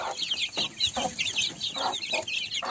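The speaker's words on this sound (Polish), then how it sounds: "Duże, ładne, ale pewnie same koguciska tutaj są." Several young roosters and hens cluck and chatter nearby in a farmyard, a string of short, uneven calls with no people speaking.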